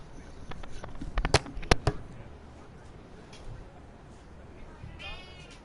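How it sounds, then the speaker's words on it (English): A domestic cat gives faint, thin meows somewhere off in the distance within a quiet indoor room, with a few brief clicks and knocks nearby and no one speaking. "If you can hear any mild meowing in the distance, it's one of my cats, Lucy."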